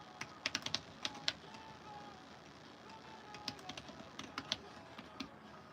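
Keys on a computer keyboard clatter in quick bursts of typing, close and clear over a faint room background, with pauses between the runs of keystrokes.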